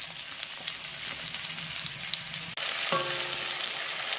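Onions frying in hot oil for a fish dish, a steady sizzle with scrapes from stirring, growing louder and fuller partway through as more goes into the pan.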